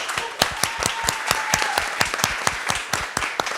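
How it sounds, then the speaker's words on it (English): Small audience at a tech lounge event clapping for the speakers, distinct individual claps in a quick, fairly regular rhythm, close and sharp rather than a blended roar. "If you could give me a round of applause for all of our speakers"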